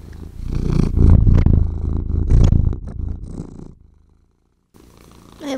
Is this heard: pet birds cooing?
no